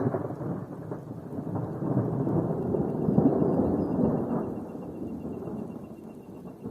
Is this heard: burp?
no